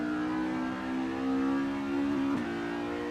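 Race car engine in a touring car racing video game, a 1970 custom tourer at Brands Hatch driven through a forested section: a steady mid-pitched engine drone holding near-constant revs, with a brief shift-like blip near the end.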